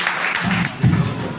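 Audience clapping together at a 50th birthday felicitation ceremony honouring a teacher, a steady mid-level burst of applause over about a second and a half, rising slightly toward the end.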